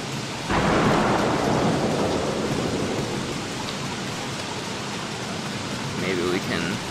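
Rain and a deep rumble of thunder from the Don't Starve video game, a broad steady downpour with a thunder roll swelling in early, then a continuous rainy wash with faint game chimes near the end.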